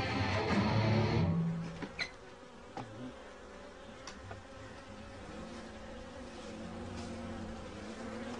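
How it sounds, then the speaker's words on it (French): Hornets attacking a honeybee colony fill the air with a steady, close insect buzz and hum, denser at first, then settling into a continuous drone with a few faint clicks. "Les frelons sont d'effrayants voisins qui terrorisent la colonie d'abeilles jusqu'à la fin de l'été."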